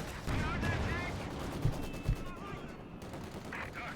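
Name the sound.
cannon and gunfire in Company of Heroes 2 video game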